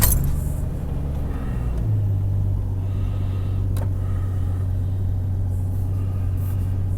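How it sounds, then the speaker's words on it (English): Jeep XJ Cherokee with a 4.0 inline-six fires up from cold at 50 degrees after sitting two days, fitted with a reground camshaft, new lifters and pushrods; a brief cranking flurry catches into a close, steady low idle hum. "this is a 50-degree cold start"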